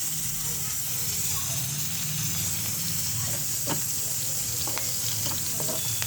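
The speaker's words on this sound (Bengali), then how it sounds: "পেঁয়াজগুলো ভাজা হয়ে গেছে।" Chopped onion and green chilies sizzle steadily in hot oil in a pan, a constant close hiss with faint scattered crackles and pops throughout.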